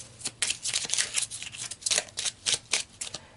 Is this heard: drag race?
no